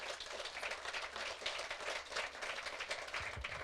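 Audience applause inside a church during a Catholic service, a dense, steady wash of many hands clapping together for the full stretch at moderate level, with no voices over it.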